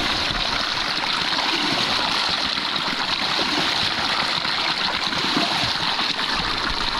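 Mountain spring water flows steadily from a hillside source near a fishing spot, a continuous close rushing and trickling wash that holds even throughout with no talk.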